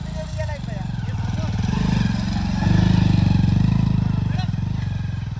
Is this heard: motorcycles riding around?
yes